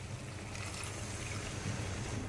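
A glass of water pours into a frying chicken curry masala of ginger-garlic paste, a steady rushing splash and sizzle lasting a couple of seconds.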